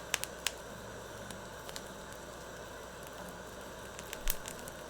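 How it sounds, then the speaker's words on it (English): Brussels sprouts searing in a bath of molten tin give off a steady, soft sizzle and hiss, with scattered small pops and crackles and one louder spit near the end. "Okay, they're cooking pretty fast. I feel like they're mostly searing the outside."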